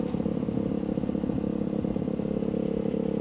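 A Honda Helix 250cc scooter being ridden, its mid-pitched engine droning with a steady rattling clatter, loud and close throughout, with no talk.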